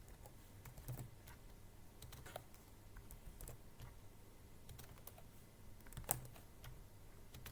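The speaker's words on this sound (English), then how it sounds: "I'm just gonna type it down fast" Fast typing on a computer keyboard, a steady patter of light key clicks with a few sharper taps, fairly quiet and alone with no voices.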